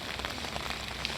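Steady rain patters on a flooded street in Chennai, a dense, close hiss of drops hitting standing water with no talking.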